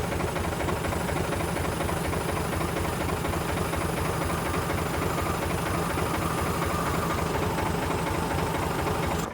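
A skid steer's diesel engine runs at a steady idle nearby, a constant low rumbling drone with faint knocking texture and no change in pace, heard alone without talk.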